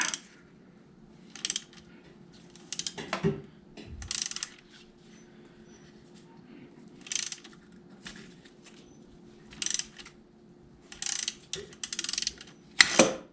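A ratchet with a 3/8 12-point socket backs out a rough transmission bolt on a 4L80E during teardown, giving bursts of quick clicking that stop and start again, with metallic rattles between them in a quiet shop.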